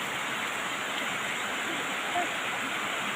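Fast water rushes steadily through a switch gate at Thinkubari in Chirang, Assam, a continuous dense roar of flowing water with no pause, close and fairly loud throughout.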